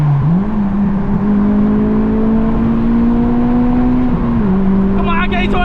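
Honda Civic Si with a K20 engine and a Hondata FlashPro tune, a steady loud revving drone from inside the car that climbs in pitch early, holds, then shifts near the end as voices come in.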